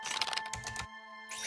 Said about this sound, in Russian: а на фоне был звук клавиш, словно кто-то печатает?